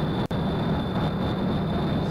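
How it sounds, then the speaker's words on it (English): Steady roaring drone of jet engines on a rocket in Kerbal Space Program, a continuous loud whine with a low rumble, briefly cut by a sharp dropout near the start. "These jet engines, they sound like they're about to blow up"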